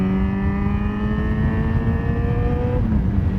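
A Yamaha XJ6 motorcycle engine revving under throttle, a steady close whine whose pitch climbs smoothly over a few seconds, then the tone drops away, with no talking.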